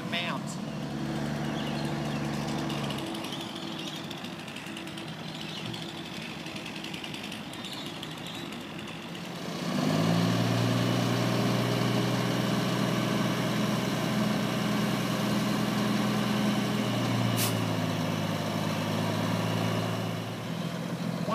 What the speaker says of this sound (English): The material from the grass from the top of the green is being loaded into the trucks